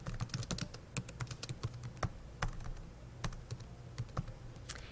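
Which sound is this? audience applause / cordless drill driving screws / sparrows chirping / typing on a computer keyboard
typing on a computer keyboard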